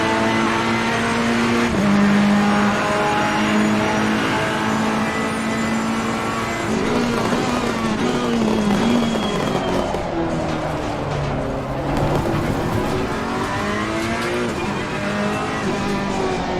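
A race car engine in Assetto Corsa Competizione screams loud and close as the driver pushes hard, with the pitch climbing through gear changes, revving repeatedly, and tires squealing at times.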